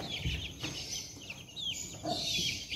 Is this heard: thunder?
no